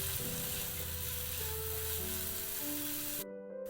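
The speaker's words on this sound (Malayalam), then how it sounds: "ഡീപ്പ് ഫ്രൈ അല്ല, ഷാലോ ഫ്രൈ ആണ് നമ്മൾ ചെയ്യണത്. എന്നിട്ട് നന്നായിട്ടൊന്ന് ഇളക്കി കൊടുക്കാം." A veg burger mixture shallow-frying in a pan, giving a steady, even sizzle with a faint stir, heard under background music that cuts out just before the end.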